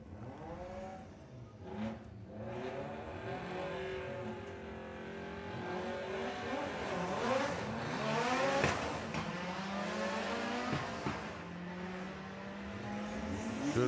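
A VW drag race car with an 1870cc engine and performance upgrades accelerates hard down a drag strip, its engine roaring and climbing through repeated gear changes, loud and close throughout with a raspy, high-revving tone.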